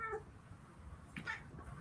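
A pet cat named Murder meows briefly around the middle of the moment, a short faint call over a low indoor background hum.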